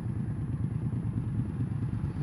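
A 2015 Indian Scout V-twin engine braking on a ride, a steady low, throbbing rumble with a fast pulsing beat, moderately loud and unbroken.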